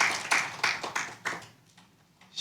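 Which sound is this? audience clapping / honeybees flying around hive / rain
audience clapping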